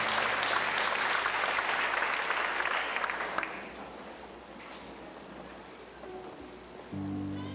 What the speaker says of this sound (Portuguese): Dá um aplauso sentando nessa sua cadeira